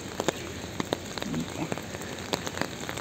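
Steady rain falls outdoors on a walk, a dense patter of drops with sharper individual splashes scattered throughout, close by and continuous for the whole stretch.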